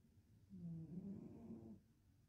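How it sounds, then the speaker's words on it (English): Soft, low snoring drone from a cat, a single drawn-out breath that swells and fades, close and quiet with no talking. "That's my cat snoring."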